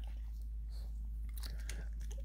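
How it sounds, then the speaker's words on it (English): A dog chews crunchy smoked brisket point with a pork caul fat crust, giving a few crisp bites and crunches close by over a steady low hum. "he's eating the point muscle, chowing it down, enjoying that crunch from the crust of the pork fat"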